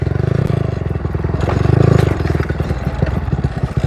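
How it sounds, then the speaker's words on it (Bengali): Motorbike on a broken village road in the Sundarbans, its engine chugging up close beneath constant rattling, scraping and clattering as the machine jolts over the rough surface. "ভাই বাইক এই রাস্তা থেকে বের করতে দম বেরিয়ে যাবে।"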